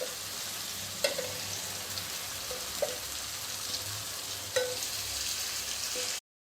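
Brinjal masala fries in a pan with a steady, moderately loud sizzle that runs throughout, broken by a few light utensil clicks, then cuts off abruptly at the end.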